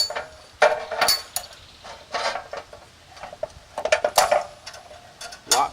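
Several short metallic clicks and clanks from a Kratz rail alignment tool locking device as it is fitted onto steel guide rail, irregularly spaced, close and fairly quiet.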